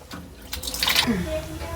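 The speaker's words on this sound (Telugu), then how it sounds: "ఇప్పుడు మనం 3 కప్పులు వేసుకోవాలి నీళ్ళు" Three cups of water are poured into a bowl, a short splash and gurgle under a voice talking nearby.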